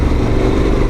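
Motorcycle engine droning loud and close while riding over wet, bumpy off-road ground, a dense steady rumble over one second.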